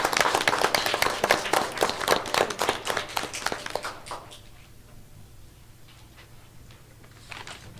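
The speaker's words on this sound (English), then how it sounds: "Round of applause for our DI team" Applause from an audience at a school event celebrating the DI team: dense clapping for about four seconds, then tapering off into scattered claps and quiet room noise.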